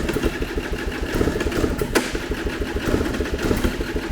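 A vehicle engine cranks close by without catching, a rapid, rough chugging pulse that keeps churning steadily throughout with no voices.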